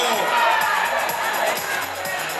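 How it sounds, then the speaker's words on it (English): Fans at a motocross race in Manchester shout and cheer, a loud, dense crowd roar that holds steady throughout with scattered individual yells. "Shouting from the crowd, the fans are here supporting it"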